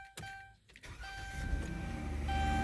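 A 2014 Dodge Grand Caravan with a newly replaced starter cranks briefly and then catches, settling into a steady, close idle with a few chimes sounding, and no one speaks.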